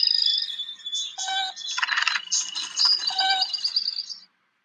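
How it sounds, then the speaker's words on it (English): Small birds chirp and warble outdoors in a busy, overlapping chorus of high tweets and trills, fairly close and continuous for several seconds with no talking. "There are a lot of birds out here, Moby."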